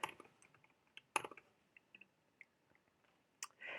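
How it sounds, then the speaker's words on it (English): Soft, sparse keystrokes tap on a computer keyboard, quiet and close, coming as scattered clicks with uneven pauses and a slightly busier flurry at the end. "I can also go ahead and start typing directly in here."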